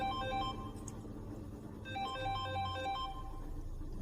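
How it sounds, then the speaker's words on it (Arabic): Mobile phone ringtone playing a repeated melodic electronic tune with steady beeping tones, close and fairly loud over a low background rumble, with a brief pause before the melody resumes. "تلفونك ده قاعد يضرب"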